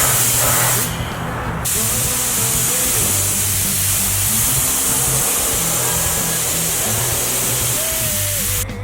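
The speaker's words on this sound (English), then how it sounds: "Alright, we've got them sprayed red." A spray gun applies red paint to panels as a protective coat: a steady, loud hiss of atomised spray runs nearly continuously, with a short pause near the start and a low hum underneath.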